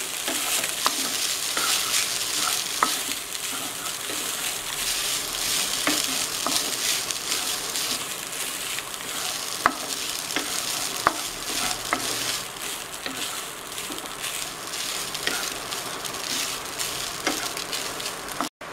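Cooked rice gets stirred into a tomato mixture in a pan, making a continuous close sizzle with repeated scraping and clicking from the spoon throughout.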